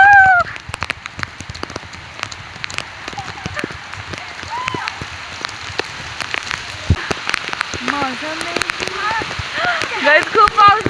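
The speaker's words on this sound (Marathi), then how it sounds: "खूप पाऊस पडतोय." Heavy monsoon rain pours down outdoors, a dense steady hiss of drops and splashes with scattered sharp patters, while excited voices chatter and call out over it throughout.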